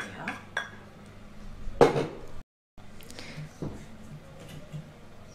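An egg is mixed in a bowl in a home kitchen, with scattered clinks of a utensil against the dish, one sharper knock, and a brief silence partway through.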